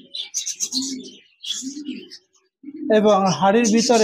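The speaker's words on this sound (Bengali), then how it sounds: "বিগ সাইজের একজোড়া ইংলিশ বাজরিগার রয়েছে" A pair of large English budgerigars in a cage chirping and warbling in short bursts close by, with someone talking over the later part.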